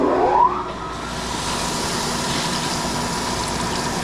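A crankshaft grinding wheel starts up: a brief rising whine spins up in the first half second and settles into a steady, loud hum and whir that continues alone.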